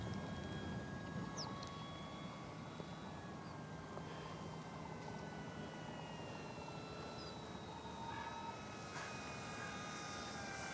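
An E-flite P-47D Razorback 1.2m electric RC scale model warbird flying overhead, a steady, fairly faint motor drone holding level throughout with slight pitch shifts as it passes at a distance.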